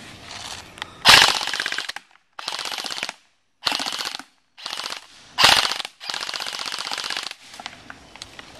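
Echo 1 XCR airsoft gun firing full-auto bursts outdoors, several loud rattling strings of rapid shots separated by short pauses, close and clear with no talk.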